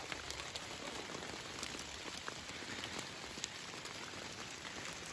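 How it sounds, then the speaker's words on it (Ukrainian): Steady rain falls on surfaces outdoors in a garden, a dense even patter with occasional louder drops close by, and no voices. "І пішов дощ."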